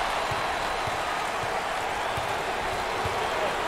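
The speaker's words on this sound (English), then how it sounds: "As the fans continue to chant." Basketball arena crowd at an NCAA tournament game roars and chants in a steady, dense wash of noise, with rhythmic low thumps, likely a bouncing ball, under a commentator's voice.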